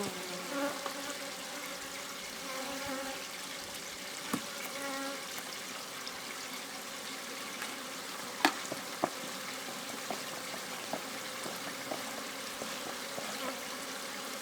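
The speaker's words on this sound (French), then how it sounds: "Les abeilles n'aiment pas ça, comme tous les bruits." Many honeybees buzz in an agitated, crackling hum after a hive frame is dropped, dense and steady, with a few sharp clicks and knocks among the swarm.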